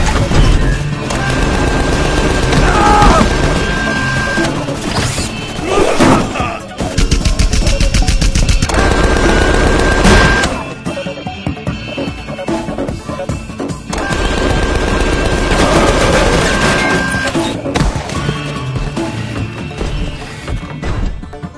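Loud, sustained automatic gunfire from a robot in the Tales From the Borderlands video game, with rapid bursts, metallic impacts and crashes in a continuous barrage broken by short pauses, mixed with game music and effects.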